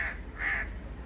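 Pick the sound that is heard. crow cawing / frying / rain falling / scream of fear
crow cawing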